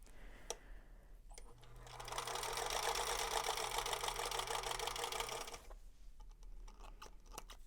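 A sewing machine stitches a full quarter-inch seam on a quilt block, a steady close mechanical whir with rapid needle ticking that runs about four seconds before stopping, with a few faint handling clicks around it.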